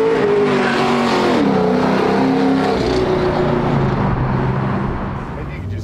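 A 1964 GMC C10 step-side restomod with an LS V8 and air suspension accelerates hard and spins a tire. The engine roars loud and close, its pitch sweeping and falling, while voices talk over it.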